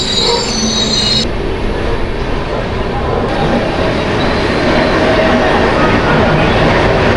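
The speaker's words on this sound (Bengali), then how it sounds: "মিনিট লেটে চলছে আমাদের ট্রেন।" Bikaner Howrah Express train runs along the line, wheels squealing sharply for about a second at the start before a loud, steady rumble of rolling carriages, with faint voices underneath.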